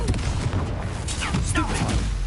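Confringo spell explosions from Hogwarts Legacy burst in a busy combat exchange, several booming blasts layered with other spell effects and a voice calling out over the fighting.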